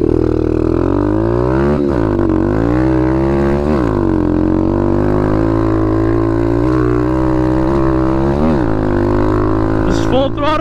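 A TaoTao DB17 dirt bike held at full throttle in fourth gear gives a loud, steady engine drone with a rising and falling pitch through the run, and a voice talks over it.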